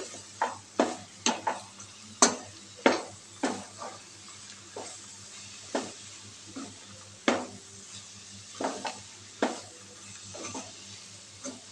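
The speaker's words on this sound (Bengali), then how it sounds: "বাকিগুলো সব দিয়ে দিলাম, মিশিয়ে দেবো এগুলো" Spoon stirring a dry motichur laddu mixture of tiny fried gram-flour pearls in a pan, a string of distinct scraping, rustling strokes spaced every half second or so, close and moderately quiet over a low steady hum.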